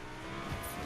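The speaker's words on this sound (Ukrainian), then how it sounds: "О, машина." A Fortnite car engine drones and revs steadily, with a brief tire squeal near the end, loud and close with no talking.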